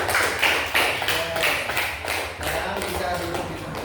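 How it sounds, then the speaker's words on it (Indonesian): A school class claps for a group's presentation, bursts of hand claps rising and falling in uneven waves, close and fairly loud, with some chatter from students mixed in. "Sekarang bisa tepuk tangan"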